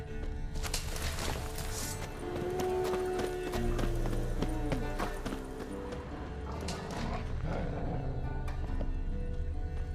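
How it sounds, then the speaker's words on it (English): A horse in The Witcher 3 video game clops its hooves in a steady rhythm and lets out a whinny partway through, set against ambient game sound. "That's his horse."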